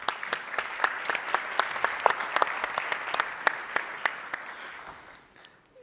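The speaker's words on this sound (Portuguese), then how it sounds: "uma salva de palmas" Moderate applause from an audience at a talk on strategic decision-making, with sharp individual claps standing out over a softer bed, fading away near the end.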